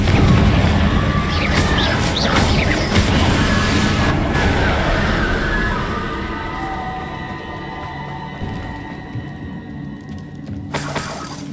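In Hogwarts Legacy, a Confringo spell bursts in a loud, shattering explosion with crashing debris that gradually fades into a quieter rumble, followed by a sharp crack near the end.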